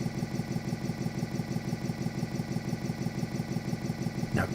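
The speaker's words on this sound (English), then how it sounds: "Place the transmission in neutral and let the engine warm up for about 2 to 3 minutes" A Harley-Davidson motorcycle engine idles in neutral, warming up, with a steady loping low-pitched pulse close to the microphone and a brief metallic rattle near the end.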